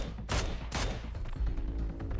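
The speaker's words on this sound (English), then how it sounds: "Lufa hearing the sniper shots whizzing by him" Gunfire in the PUBG Mobile battle royale game, with two sharp loud cracks early on followed by scattered fainter shots and rumbling in the background of a match.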